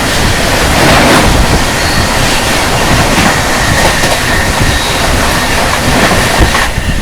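The New Delhi–Prayagraj Humsafar Express, hauled by an Amrit Bharat locomotive, runs at speed with a loud, continuous rushing rumble and faint rhythmic clatter from the wheels on the rails. The roar stays steady and close throughout.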